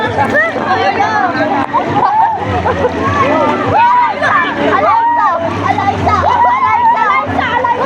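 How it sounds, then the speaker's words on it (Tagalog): Water splashing and sloshing in a busy wave pool, with children and other people talking and shouting loudly throughout. "Lakas ng alon!"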